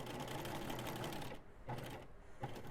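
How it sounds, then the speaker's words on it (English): Domestic sewing machine stitching a seam through solid pink casing fabric joined to a striped panel, a steady close whirring run that breaks off briefly twice for a back stitch before resuming. "Now I'm going to back stitch so that I lock this stitch"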